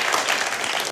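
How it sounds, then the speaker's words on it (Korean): Audience applause at a celebrity League of Legends tournament event, a dense, steady wash of clapping filling the whole short moment without pause. "다시 한번 큰 박수 부탁드립니다"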